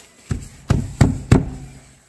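A stuck door being pushed and shoved, four dull, heavy knocking thuds at a steady rhythm, close and fairly loud, with no talking over them.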